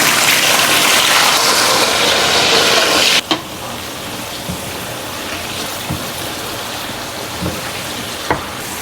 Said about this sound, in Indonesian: Kita lanjut goreng cabai rawit.